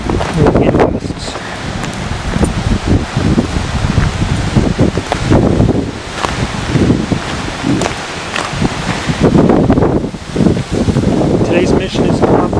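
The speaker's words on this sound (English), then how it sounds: "Wind gusts." Strong wind gusts in Queen Creek roar and buffet the microphone in loud, uneven surges, with rustling throughout and brief lulls between blasts.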